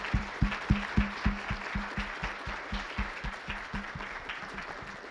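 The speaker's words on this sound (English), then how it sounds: "maybe we can give Elizabeth a round of applause" An audience at a homelessness event's welcome gathering applauding Elizabeth Schultz, steady rhythmic clapping that starts strong and gradually softens, with no talking.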